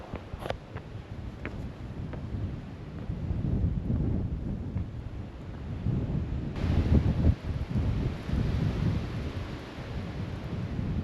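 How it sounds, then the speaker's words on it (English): Gusty wind buffets the microphone on a sunny morning along the Appalachian Trail near Spy Rock, a low, rumbling roar that swells and eases in uneven waves, fairly faint overall. "it is still a little bit windy"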